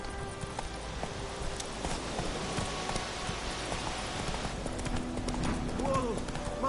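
Roach the horse gallops in The Witcher 3, a dense, continuous drum of hoofbeats under a rushing, noisy background, with a brief tonal cry near the end.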